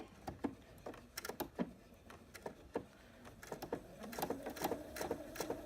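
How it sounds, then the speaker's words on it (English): A sewing machine stitches quilt binding in short, irregular bursts of rapid mechanical clicking and whirring, close and clear, with brief pauses between runs. "Okay, so we're ready to sew now."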